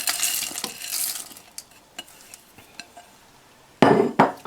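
Marshmallows and chocolate chips folded together in a pot, opening with a bright scraping rush, then sparse light taps and scrapes of a utensil, ending in a loud burst of scraping against the pot.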